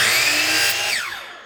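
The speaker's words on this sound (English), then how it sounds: "we're going to cut that 30-degree miter on the end of here" A power saw whines loudly while cutting a 30-degree miter in wood, the high motor tone holding, then dropping in pitch as the blade spins down near the end.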